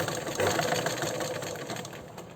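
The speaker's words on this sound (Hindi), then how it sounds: "ये देखिए अभी हम सिलाई शुरू कर रहे हैं।" A sewing machine stitches piping onto an arm design in a continuous, fast mechanical whir with a dense, rapid ticking rhythm, fairly close and alone without talk.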